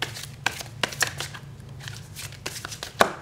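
Tarot cards being shuffled by hand, a series of crisp, close riffling snaps and taps spaced irregularly over a quiet background hum, with no talking.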